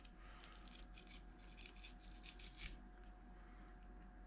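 A knife scores the rind of a pork shoulder in a run of quick, close rasping strokes that fade after a few seconds, with a steady low hum behind and no talking.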